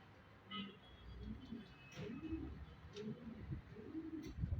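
Pigeons coo in soft, repeated low calls, fairly close, over quiet background noise with a few faint chirps.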